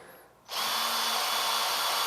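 A power drill starts up abruptly after a brief quiet moment and runs at a steady high whine while boring into a Volkswagen Beetle valve part, loud and close throughout.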